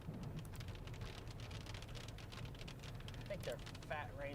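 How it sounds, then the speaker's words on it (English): Fat raindrops fall during a severe thunderstorm, a steady dense patter of drops striking a surface with a few sharper pings near the end. "I think they're fat raindrops"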